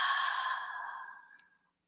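A single long, soft exhale during a guided breathing exercise, a breathy hiss that fades out over about a second and a half, close and quiet with no talk.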